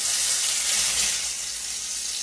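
Cubed steak fries in hot grease in a pan, giving a loud, steady hissing sizzle up close with no talk.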